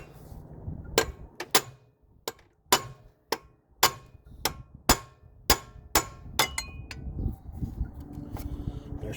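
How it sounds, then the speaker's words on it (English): Sharp metallic hammer blows on a tool loosening the water pump fan nut of a 1998 Chevrolet S-10 Blazer, about a dozen close, ringing strikes at an uneven pace with brief gaps in a garage. "I'm just taking a hammer"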